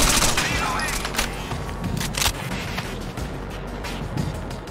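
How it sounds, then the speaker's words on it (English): Gunfire in the Rainbow Six: Vegas 2 video game: dense, overlapping bursts of shots crackling almost continuously at a steady, loud level, with a voice talking over the firefight. "Oh, taking fire."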